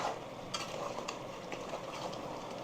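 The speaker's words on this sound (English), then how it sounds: "So this is starting to thicken up and fry down here." Soft, steady sizzling of lamb frying and thickening in a pan, with occasional faint scrapes of stirring, fairly quiet and without talk.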